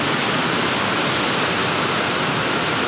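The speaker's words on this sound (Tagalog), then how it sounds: "Overflow pa rin siya, ang linaw ng tubig." Water overflowing the overflow gate of the Tarlac Diversion Dam at dawn, a loud, constant roaring rush of broadband noise with no variation or voices.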